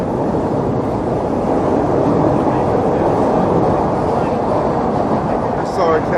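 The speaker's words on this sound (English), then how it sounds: "Train pretty loud." A loud train rumbles past close by, a heavy continuous roar filling the clip, with faint higher squeals near the end.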